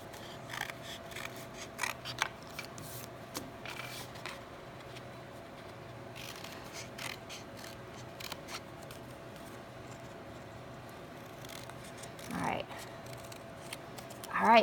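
Scissors snipping through cardboard for a low relief sculpture, with repeated soft cuts in an irregular rhythm, fairly faint, close up, under a quiet room tone.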